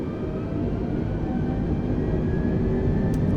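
A320 twin jet engines spool up for takeoff in a flight simulator, a steady, loud, broad roar with a faint rising whine that holds for several seconds without talk.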